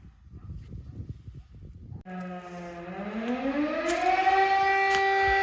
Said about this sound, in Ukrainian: Повітряна тривога у Білозерці.